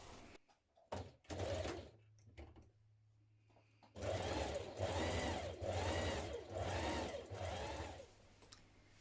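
Sewing machine stitching the side seams of a skirt lining, a few short starts followed by a steady run of rhythmic whirring and needle clatter, close and clear.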